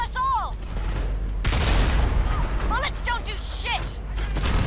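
Heavy gunfire and booming blasts in the war video game Homefront, with a rocket launcher fired at a Goliath armored vehicle among sustained loud battle noise, explosions and shouting voices throughout.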